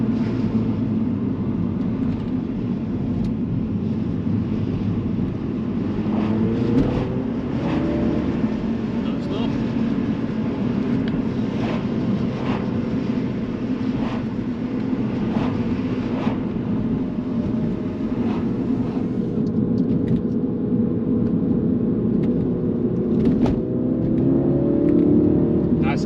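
Exhaust of a flood-damaged, modified Mini John Cooper Works idling with the valves open, a steady low droning rumble with occasional small rises, heard up close under intermittent speech.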